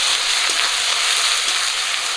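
Spice paste of ground dry chilli, cumin, garlic and ginger frying in hot oil, giving a steady, loud, close sizzle without a break.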